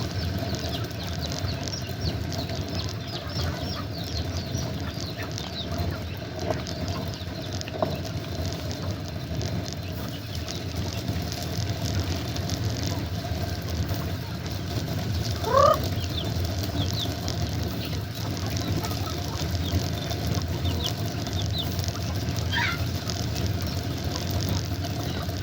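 Pet chickens eating corn, soft scattered clucks and pecking amid steady outdoor background noise, with a couple of brief louder calls, heard at a moderate distance without talk.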